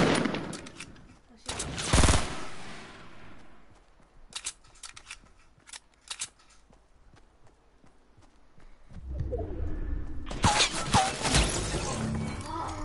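Fortnite gunfire comes in sharp, loud bursts with scattered single cracks between them, then a longer stretch of rapid shots at the end, with quieter game sounds in the gaps.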